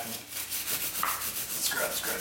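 A brush scrubs a chain being treated with Tirox chain care products, giving repeated close rubbing strokes with a rough, scratchy texture in an uneven rhythm.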